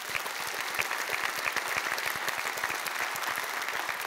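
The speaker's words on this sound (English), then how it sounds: "Insert applause here for Norm Augustine." An audience at an innovation panel event applauds, a steady wash of many hands clapping at moderate distance, continuous and even throughout with no talking.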